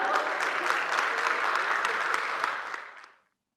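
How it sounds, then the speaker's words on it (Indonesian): Audience applause at a talk on digitalizing small businesses, a lively, full burst of many hands clapping steadily before cutting off sharply near the end. "Mari kita berikan tepuk tangan yang meriah."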